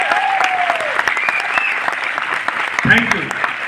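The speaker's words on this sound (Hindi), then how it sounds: "ठोको ताली अपने लिए, बढ़िया से मुस्कुरा के बजाना, तब आएगा मजा।" Audience at a success celebration in Delhi clapping for themselves, a loud, dense burst of applause with cheering voices and whistles mixed in.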